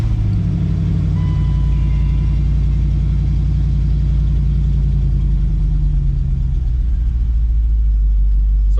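A Dodge Magnum V8 with a bored-out throttle body idles loud and close, a steady low engine rumble with a hissing intake note layered over it, alone without talk.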